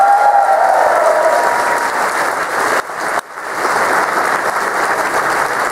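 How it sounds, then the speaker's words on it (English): A large convention audience at an opening ceremony gives loud, sustained applause that dips briefly and then continues steadily with crowd noise. "So round of applause for them, please."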